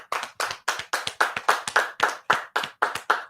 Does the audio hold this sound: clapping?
yes